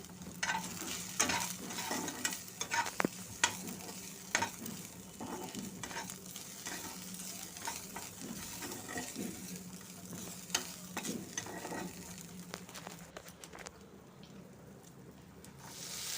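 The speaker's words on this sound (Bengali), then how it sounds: "এরপর দিয়ে দিলাম দু চার টুকরো টমেটো কুচি আর একটু আদা এগুলাকে এবার আমি নেড়ে নিচ্ছি" Chopped tomato and a little ginger sizzle in a frying pan while a spoon stirs them, scraping in steady repeated strokes over a constant crackle; the fry stays close and moderately loud throughout, with no talking.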